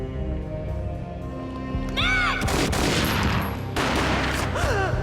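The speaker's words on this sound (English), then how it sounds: "A gunshot boomed and she fell down in slow motion." Gunfire in the video game Max Payne, a burst of several sharp gunshots and booms with ringing, swooping effects, loud and close over a low in-game drone, preceded by a quiet tonal stretch.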